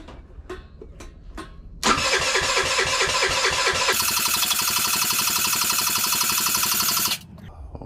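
Scooter engine on a test stand struggling to start: a few clicks, then cranking bursts that catch into a loud rough buzzing run for several seconds before cutting out, close by with no talk.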